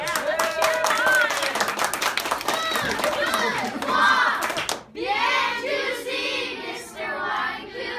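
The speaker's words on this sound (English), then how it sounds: "how about a big round of applause? Right, yeah, let's cheer him on" A crowd claps and cheers for a Teacher of the Month honoree at a school in Grand Junction. The applause stays dense and close through the first half. After a short break, livelier cheering and excited voices take over.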